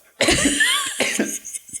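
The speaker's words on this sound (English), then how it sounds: "let me insert a cough here" A single loud, close cough with a couple of rough follow-up bursts, no speech.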